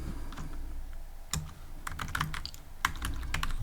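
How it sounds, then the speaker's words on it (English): Keys clatter on a computer keyboard in quick, uneven bursts, soft and close, with short pauses between clusters of strokes. "and I will type"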